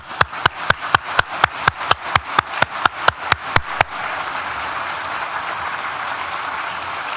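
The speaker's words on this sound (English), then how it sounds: "Please join me in thanking them with a well-deserved round of applause" Graduation ceremony audience breaks into applause: about fifteen sharp, evenly spaced claps lead into a dense, steady wash of clapping from a large crowd, loud and continuing without talk.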